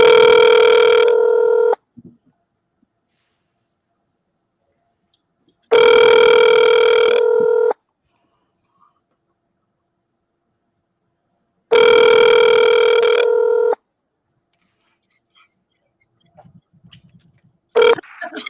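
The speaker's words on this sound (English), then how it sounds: "I'm going to call him. Let's see if he'll pick up." A telephone call rings out through the handset: three long harmonic ringback tones, each about two seconds, separated by roughly four-second silences, loud and alone, before a brief faint noise and a sharp click as the line connects.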